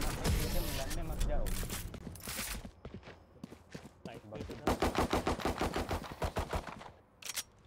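Gunfire in the Valorant video game, with heavy shotgun blasts and then rapid bursts of shots, loud and close, mixed with in-game footsteps and mechanical clatter.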